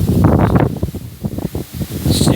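Strong wind gusts during a snow storm roar and buffet close to the microphone, swelling and easing in loud irregular waves throughout.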